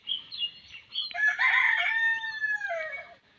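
On a farm flock, a rooster crows loudly and close in one long drawn call, preceded by some brief clucking.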